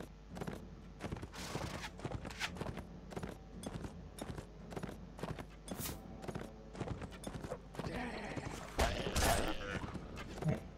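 A horse trots in the Third Age mod of a medieval battle video game, its hooves clip-clopping in a steady, fairly close rhythm, with busier clatter and battle noise building near the end.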